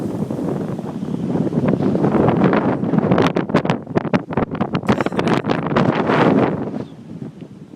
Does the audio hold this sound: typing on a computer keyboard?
no